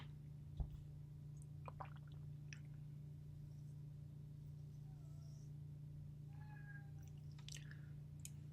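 A pet cat gives a few faint, brief meows against a steady low electrical hum, with no talk over it.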